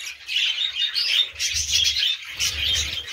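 Small caged pet birds, a clutch of breeding birds with yellow and red eyes, chirp and tweet in a busy, continuous chatter of high twittering calls, close by, with faint low handling noises in between.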